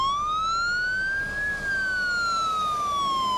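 Fire engine sirens wail during a fire drill at a large commercial complex, one loud rising-and-falling siren tone with harmonics sweeping up then down over steady vehicle rumble, no speech.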